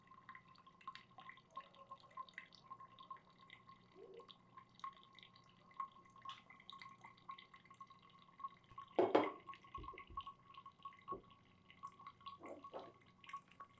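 Water poured in circles over coffee grounds in a V60 pour-over brewer, soft intermittent dripping and trickling with a faint steady tone and one brief louder splash, quiet and close.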